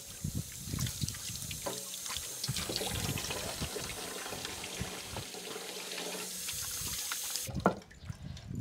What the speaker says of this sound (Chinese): 去放这里洗洗手。你拿洗洗手。